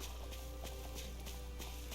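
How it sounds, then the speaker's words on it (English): Several horses walk around a ranch in the Tales of Arise role-playing game. Their hooves clip-clop in an even rhythm, moderately close, over a steady low background hum, with no talking. "Look how many horses there are."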